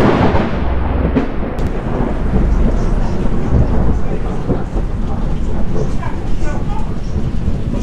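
Loud, continuous rumbling thunder from a mountain storm fills the whole stretch, with rain-like hiss throughout and faint voices buried beneath.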